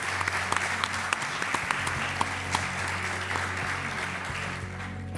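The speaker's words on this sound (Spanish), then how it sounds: "Por favor, un fuerte aplauso para él." A radio studio audience applauds the show's producer with steady, sustained clapping at moderate distance, an even wash of hands under a low background hum, no voices.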